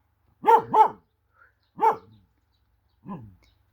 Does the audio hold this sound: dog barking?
yes